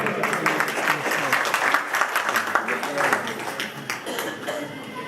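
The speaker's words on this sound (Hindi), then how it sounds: "तालियां से स्वागत।" An audience applauds in welcome as a guest is garlanded at a Bhagavat Katha gathering in Tagore Garden, New Delhi. The clapping is steady and dense, with speech-like sounds mixed in.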